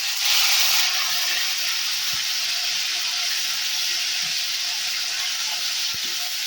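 Tomato paste hitting a hot pan with spices for onion- and garlic-free shahi paneer sizzles loudly and steadily, a bright hiss that carries on without pause, with faint clinks underneath.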